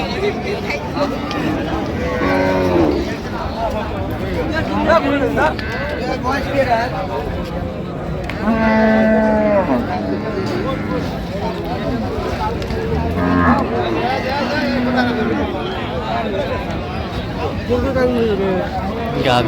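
Cows and calves moo repeatedly at the busy Raniganj cattle market, with several drawn-out calls from near and middle distance over constant crowd chatter and nearby talking.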